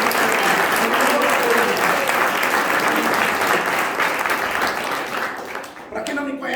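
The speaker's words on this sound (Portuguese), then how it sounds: "Eu quero uma salva de palmas para esse ministério" Church congregation applauding a ministry, loud sustained clapping from a crowd that fades out near the end, with a voice over it.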